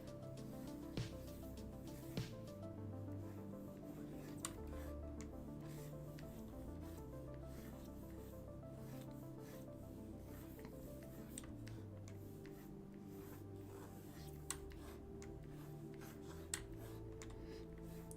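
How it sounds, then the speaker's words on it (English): Stylus scratching across the worn, heavily scratched surface of a Cintiq pen display, a faint continuous rubbing and scraping with occasional soft ticks, quiet and close. "My Cintiq has like a million scratches on it, so if this like sound of me drawing is like super loud"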